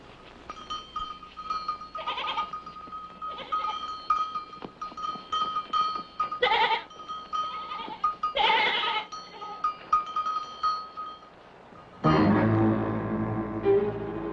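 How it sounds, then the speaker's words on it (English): A goat bleats again and again in short, wavering cries spread across the stretch, some louder and nearer than others, over a faint sustained tone, before a louder rush of noise takes over at the end. "So does your smart little goat."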